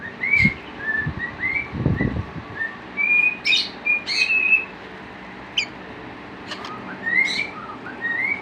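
Forty-day-old lovebird chicks chirping, a series of short, bright cheeps and whistled calls scattered across several seconds, close and clear over faint background noise with a few low thumps near the start.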